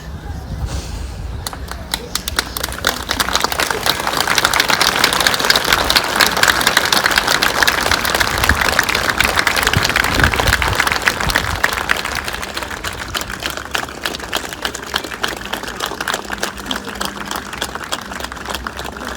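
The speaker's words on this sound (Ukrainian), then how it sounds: "Люди влаштували овацію у кілька хвилин." A crowd at a memorial evening gives a sustained ovation, dense clapping swelling and lasting through the stretch before easing off, loud and continuous.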